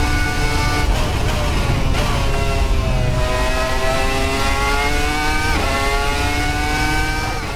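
Red Bull RB1 Formula 1 car with a V10 engine in the Assetto Corsa racing game, screaming at high revs through a run of rising, shifting gear pulls, loud and constant with no break.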